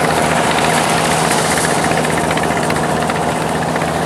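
A homemade tracked tiller's engine runs hard at high speed, a loud, dense, continuous mechanical clatter and roar close by with no one speaking.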